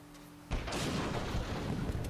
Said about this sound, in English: It was an explosion. You're going to see a lot of them.